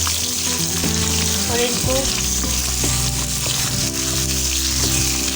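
Potatoes and celery sizzle steadily in a hot pan, with stirring scrapes throughout and a brief voice speaking over the frying.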